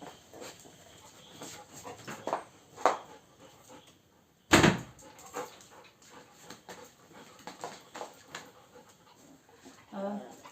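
A dog pants softly and gives faint whimpers near the mic, with one sharp bump in the middle and people talking around it.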